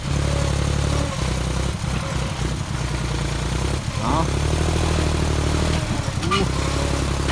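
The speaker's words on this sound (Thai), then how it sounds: "เสียงปั๊มนี่ว่าดังเลยนะครับ" A farm tractor's hydraulic lift pump runs loud and steady alongside the engine's rumbling drone, with voices over it and a brief dip and rise in the middle.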